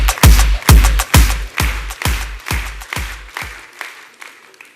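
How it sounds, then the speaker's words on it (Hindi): An audience at an LIC agency reward event applauds a guest as about eight loud, evenly spaced heavy claps that gradually weaken and fade out. "जोरदार तालियां राजेश जी के लिए।"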